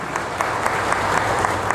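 Audience at a Bahujan Samaj Party political rally in Gurgaon applauding loudly, a dense, steady wash of many hands clapping with no talk over it.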